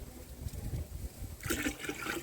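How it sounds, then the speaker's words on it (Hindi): Water trickles and splashes into a clay pot packed with mixed compost, a short pour that starts up near the end over a low, muddy background. "पानी इसमें थोड़ा और डलेगा।"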